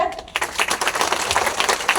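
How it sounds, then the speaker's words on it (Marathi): An audience at a book event in Jivaji Nagar, Pune, claps together, a dense, fairly close patter of many hands that starts suddenly and keeps going. "पुन्हा एकदा त्यांच्यासाठी टाळ्या होऊ"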